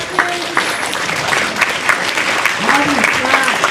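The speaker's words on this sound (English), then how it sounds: "can you put your hands together, please, for Mr. Mitch Lewis?" An audience in a high school gym or hall applauds to welcome a presenter; brisk, lively clapping runs throughout, with a voice talking over it.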